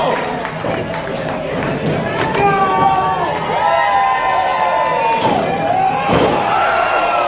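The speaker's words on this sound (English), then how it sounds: "Crowd completely electrified by the athleticism." A wrestling crowd roars and cheers throughout at a TWF Tower of Power event after a running shooting star press, loud and sustained, with a commentator's voice running over it.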